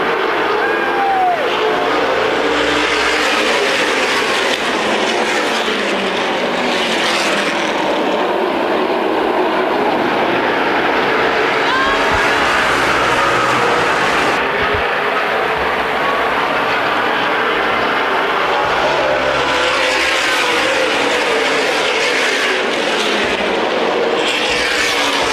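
Race cars on the oval at the Winchester 400, a CRA Super Series short-track event, roar off turn four in a sustained, loud wash of engine noise that swells and fades as the pack passes, with no talk over it.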